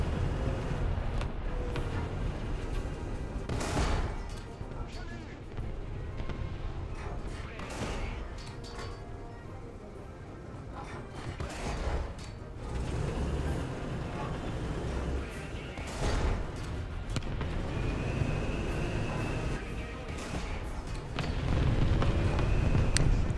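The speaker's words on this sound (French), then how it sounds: "Hop, et l'artillerie, nickel qui l'achève" Artillery fire and other gunfire thump and crack repeatedly in a tank battle video game set around a French AMC35 tank, with scattered booms over a rumbling background and someone talking throughout.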